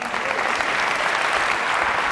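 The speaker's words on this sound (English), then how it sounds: "Join me in a big warm round of applause for Gary Vaynerchuk." A large audience applauds a speaker welcomed onto a conference stage, dense and steady clapping filling the hall at full volume with no break.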